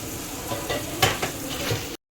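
Fish drops into hot oil in a busy kitchen and fries with a loud, crackling sizzle. Several sharp spatters and stirring knocks sound over about two seconds before it cuts to silence.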